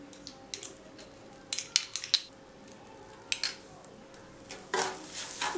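Semolina being stirred in ghee in a pan over a low flame for sooji halwa, with sharp scattered clinks and scrapes of a spoon against the metal over a faint sizzle, close and intermittent.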